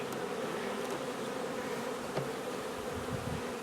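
Honey bees buzz at a hive in a dense, continuous drone that fills the whole moment, close and steady with no voices.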